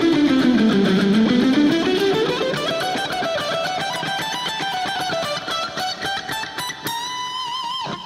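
Electric guitar runs a fast inside-picking passage high on the neck with a distorted, effects-laden tone, the notes sweeping down then climbing in a dense continuous stream, close and loud with no voice over it.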